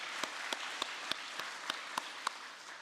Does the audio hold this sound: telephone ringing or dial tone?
no